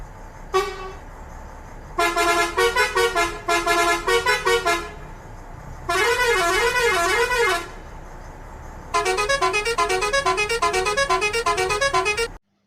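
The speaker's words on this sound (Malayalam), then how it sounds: "അപ്പോൾ ഇനി ഹോൺ കേൾപ്പിച്ചു തരാം." Four separate bus horn blasts in the game Bus Simulator Indonesia sound in turn: a short toot, a choppy series of honks, a wavering tone, then a long pulsing horn. All are loud and close.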